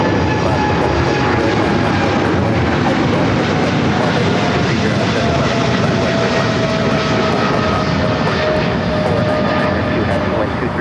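Airliner jet engines roar steadily at Los Angeles International Airport during takeoff, a loud, continuous broadband rumble with a high whine running throughout, while a radio voice speaks over it.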